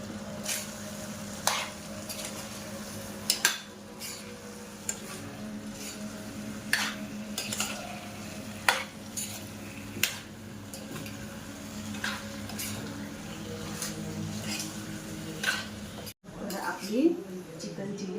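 Pieces stirred through gravy with green chillies and onion in a pan, with a soft sizzle and scattered utensil clinks against the metal, all under someone talking.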